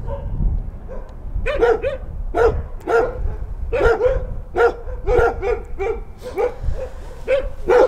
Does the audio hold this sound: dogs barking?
yes